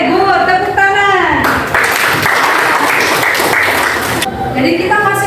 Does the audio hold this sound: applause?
yes